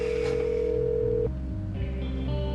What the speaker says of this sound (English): He's not answering his cell phone.